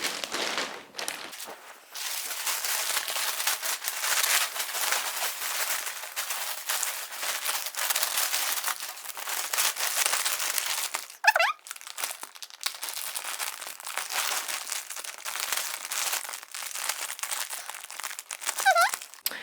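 Continuous crinkling and rustling of a plastic vacuum storage bag with scratchy friction as its zipper is closed, close up, broken by a couple of brief sharper squeaks near the middle and end.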